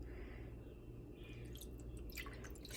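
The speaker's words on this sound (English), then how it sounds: "So I'm pouring my water in there." One cup of water poured into a big pan for homemade rose water makes a soft, steady trickle and a few drips over a constant low room hum, with no talking.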